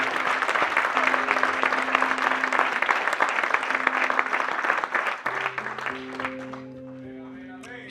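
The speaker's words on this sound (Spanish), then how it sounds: "Denle ese aplauso al Rey en esta hermosa y linda mañana." A church congregation applauds in a steady, dense burst of clapping that fades after several seconds, leaving soft music tones underneath.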